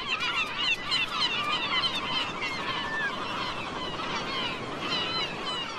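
Gulls calling in a busy coastal breeding colony, many overlapping honking and squealing cries close by and continuous throughout.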